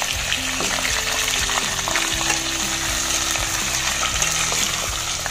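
Whole chicken wings fry in a pan with a dense, loud, continuous sizzle, while a utensil scrapes and stirs against the metal in repeated strokes close by.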